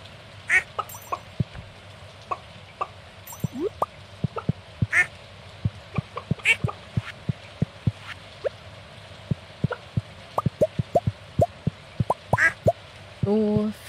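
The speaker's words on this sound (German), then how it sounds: "Füttern mir die Hühner und Enten." Ducks on a Stardew Valley farm quack in short repeated bursts throughout, mixed with clicky game effects and a voice talking over parts of it.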